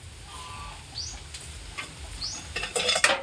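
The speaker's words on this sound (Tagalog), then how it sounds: "Marunong magbukas ng kaldero." An animal opens a cooking pot lid, giving a brief burst of metallic clattering and scraping near the end, heard against a quiet outdoor background with faint bird chirps.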